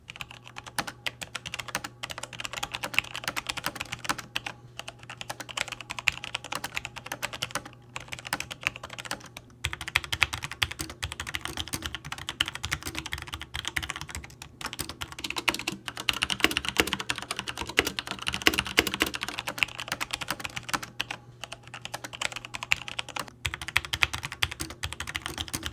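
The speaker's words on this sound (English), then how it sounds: "here's a sound test comparing the linear switches to the tactile ones on my G Pro and the MX Reds on my Corsair K63 wireless" Logitech G513 mechanical keyboard with linear and tactile switches, compared with MX Red switches on a Corsair K63 wireless, typed on continuously with steady close clicking and clacking keystrokes and no talking.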